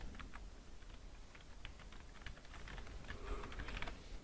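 Quiet, rapid clicking of computer keyboard keys being typed in an irregular patter, close by and steady under a low background hiss.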